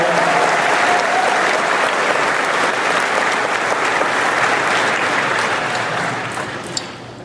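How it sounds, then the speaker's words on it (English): Loud, dense applause from a large crowd at a Star Wars Rebels panel during Star Wars Celebration 2017, honoring the Perales family, rolling steadily for several seconds before tapering off with a few final claps. "Round of applause for the Perales family."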